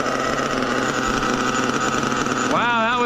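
A glow-ignition model engine running at a rich setting, with a loud, steady high buzz that holds throughout and climbs in pitch near the end.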